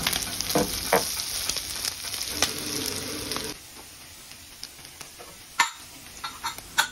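Pork for dinuguan frying in its own rendered fat until crispy, seasoned with pepper and a little salt; a steady loud sizzle and crackle that drops quieter partway through, with a few sharp pops near the end.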